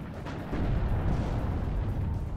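Artillery volley in the WARNO real-time strategy game, a dense, continuous low rumble of shell impacts that swells louder after a brief opening and keeps rolling without clear gaps.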